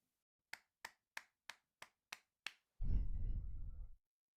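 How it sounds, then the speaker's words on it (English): Seven sharp hand claps at an even, steady pace, loud and close with nothing else around them, followed by a short burst of low rumbling noise. "That was 7 claps."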